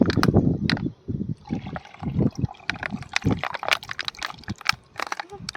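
Water splashes and gurgles as it is poured into a tub holding freshly caught fish, in uneven close bursts with brief pauses between pours.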